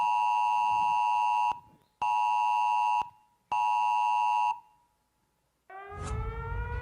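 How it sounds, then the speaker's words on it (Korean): Earthquake emergency disaster alert tone sounding on phones during a regional safety drill, three loud, steady electronic beeps of about 1.5 seconds each with short gaps, followed by a rising warbling siren-like alert tone. "기상청에서 주민들에게 지진 발생 긴급 재난 문자를 발송하였습니다."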